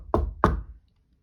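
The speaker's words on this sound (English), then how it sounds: "Suddenly he was interrupted by a knock at the door." Two firm knocks land on a door, close and distinct, about a third of a second apart, followed by silence.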